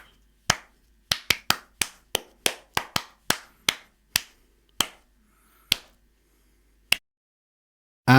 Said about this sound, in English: We just clap our hands a few times.